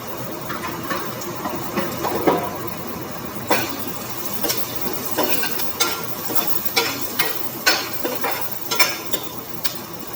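Onions and green chillies hiss and sizzle in hot oil in a kadai, with repeated scraping stirs of a spatula knocking at a regular pace, close and without talk.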